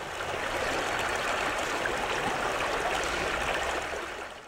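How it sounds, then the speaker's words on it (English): A flowing water stream gives a steady, dense rushing and gurgling wash that fades in and out gently, loud and close, with no voices. "sounds of flowing water to mask other noises more naturally"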